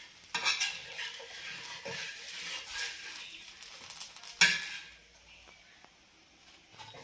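Dosa batter cooking on a new dosa griddle, with a steady broad sizzle, scraping and stirring clatter, and sharp metallic spatula knocks, loudest early and around the middle before easing off.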